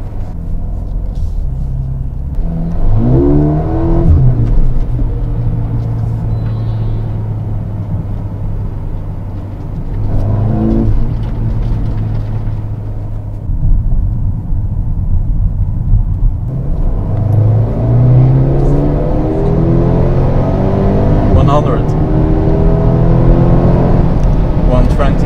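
A 2020 Mercedes-AMG GLB 35 4MATIC in Comfort mode rumbles low and steady at night, with a few rising revs as it accelerates, the exhaust note fairly subdued and close.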